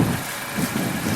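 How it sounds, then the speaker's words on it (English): A 2020 Honda Accord engine idles steadily while warming up, a continuous low rumble close by with no voices over it. "I start up the car almost 5 minutes to warm up the engine"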